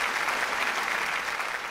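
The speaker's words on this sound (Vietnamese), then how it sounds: "Xin quý vị dành một tràng pháo tay nữa chúng ta cùng trân trọng chào đón giáo sư Trần Văn Khê" A gala audience gives a continuous round of applause welcoming Professor Tran Van Khe, the clapping forming an even wash of sound at moderate distance throughout.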